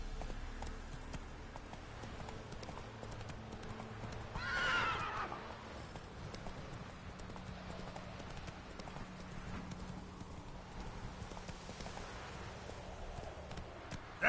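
Roach, the horse in The Witcher 3, galloping with a steady drumming of hooves, a whinny rising midway, and quiet ambient game sound underneath.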